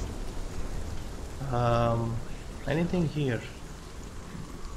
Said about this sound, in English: oh it's raining, it's raining